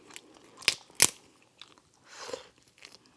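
Lobster being chewed up close, a few sharp crunchy bites and crackles spaced between quiet moments, with no talking.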